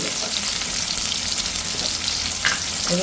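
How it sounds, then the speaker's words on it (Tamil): Mustard seeds and fenugreek sizzle steadily in hot oil for a seer fish curry, a close, continuous crackling fry with no talking. "நான் மீன் குழம்புக்கு கடுகு சேர்க்கிறேன் இல்லை கொஞ்சம் வெந்தயம்"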